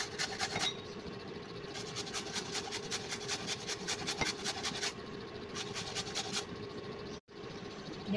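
Minced pork and shredded carrots are mixed with a wooden chopstick, giving close, continuous soft scraping and rubbing with a quick repetitive rhythm, fairly faint and with no talk.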